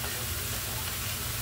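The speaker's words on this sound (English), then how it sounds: "Hear that sizzling?" Chicken sizzles as it fries in a pot for stew chicken, a dense, steady crackling hiss that stays loud and close throughout with no voices.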